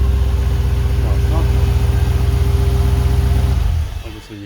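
A 5.7L LS1 V8 idles on an engine run stand with a steady low rumble, dropping off near the end; a person talks over the engine.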